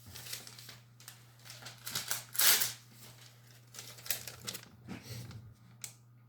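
A Bahco SB-2446 knife slicing through sticker backing material, producing close, quiet scraping and crinkling cuts in irregular bursts over a low steady hum.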